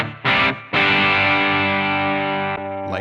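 An electric guitar strums bright crunch chords through a Marshall 6100 30th Anniversary amp model. Two short clipped stabs lead into a long ringing chord that slowly fades.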